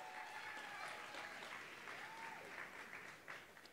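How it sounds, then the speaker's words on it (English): An audience applauds at a college basketball Final Four community event in Houston, a steady, moderately distant wash of clapping that runs throughout with some voices and cheers mixed in. "So give yourselves a big round of applause."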